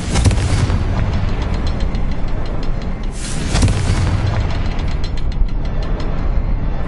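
Repeated blasting-spell explosions from Hogwarts Legacy, loud booming bursts with rattling mechanical crackle, a dense continuous barrage with two heavier blasts standing out.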